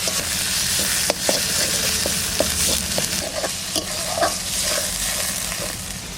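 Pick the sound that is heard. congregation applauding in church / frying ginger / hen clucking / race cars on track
frying ginger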